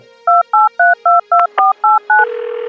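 A telephone keypad beeps out eight quick dialing tones in an even rhythm while calling a doctor, followed by a steady line tone, loud and close with no talk.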